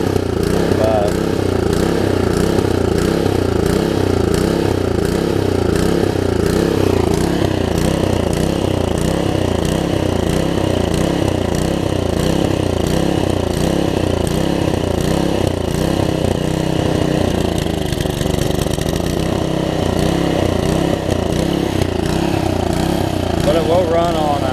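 A Troy Bilt Tuffy tiller's small engine running steadily and loudly up close, a constant chugging drone that shifts slightly in pitch partway through.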